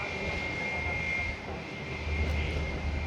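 A fixed-wing airplane approaching runway 10 at San Juan airport (SJU/TJSJ), a steady loud engine roar with a sustained high whine that swells slightly toward the end, no voices.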